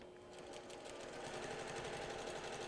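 A sewing machine runs steadily, stitching straight down the line of a log cabin quilt block. It is a continuous, close, even mechanical whir with fast needle chatter and no talking.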